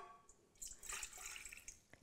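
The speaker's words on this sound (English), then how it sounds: "And into this, we're going to pour half a cup of tap water" Half a cup of tap water poured into a stand mixer bowl, a brief, quiet splashing trickle lasting about a second, followed by a small knock at the end.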